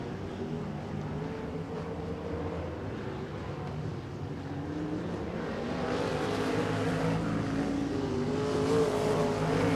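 Sprint cars roar around the Tulsa Speedway dirt oval during an A feature, a dense layered engine drone that swells louder in the second half as cars close in and pass.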